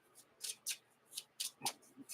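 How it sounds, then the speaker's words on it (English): Cards for the Marvel Champions card game are shuffled by hand close up, giving a run of about eight quick, crisp riffling bursts in an irregular rhythm, fairly quiet, with no talking. "We shuffle."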